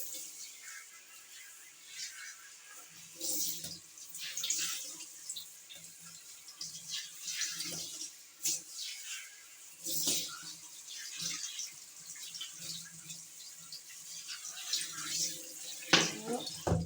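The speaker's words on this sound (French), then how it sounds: "On va rincer correctement." A tap runs water while a hair mask is rinsed out of hair, a soft steady flow with splashes and louder gushes at intervals, fairly quiet and close.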